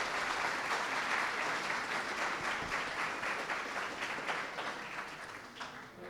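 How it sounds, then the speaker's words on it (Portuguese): Audience applauding at a lecture event, a dense, steady wash of many hands clapping for several seconds, fairly distant and gradually tapering off toward the end. "Vamos dar uma salva de palmas aí para vocês."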